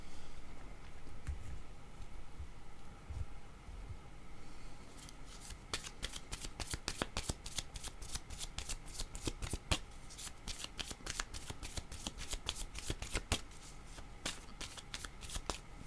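Tarot-style cards for a reading are shuffled close up, first a soft rustle, then a long run of rapid, crisp riffling snaps repeating in quick bursts, with a faint low murmur underneath.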